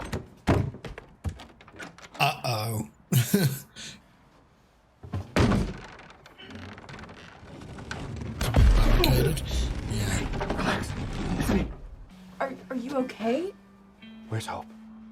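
Heavy thumps and creaks from a stuck door being forced in a TV drama scene, several loud knocks and rattling mechanism sounds mixed with voices talking around them.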